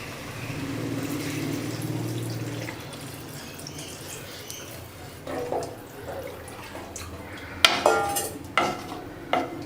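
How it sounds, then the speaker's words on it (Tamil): Water is poured into a pan of green gram and egg curry while it cooks, with a soft pouring wash followed by a few sharp clinks and stirring sounds near the end. "இப்போ வந்து நம்மளோட தேவைக்கு ஏற்ற மாதிரி தண்ணி உள்ளே சேர்த்துக்கலாம்"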